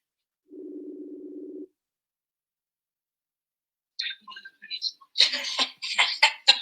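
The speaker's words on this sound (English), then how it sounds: "So Olive, so it's ringing." A single short electronic ring tone from a Facebook Messenger video call sounds once in near silence; afterward a person clears their throat and coughs.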